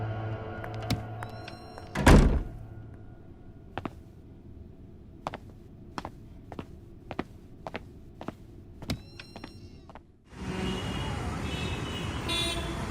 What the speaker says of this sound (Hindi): जाते वक्त दरवाजा बंद कर देना।